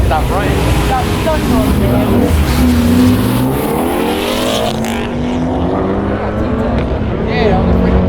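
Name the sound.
2007 Lexus IS 350 drag racing against a Mitsubishi Evo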